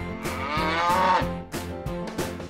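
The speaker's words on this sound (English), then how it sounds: "cow" A cow moos in one long, loud, low call close by, over a steady background with a rhythmic pulsing pattern.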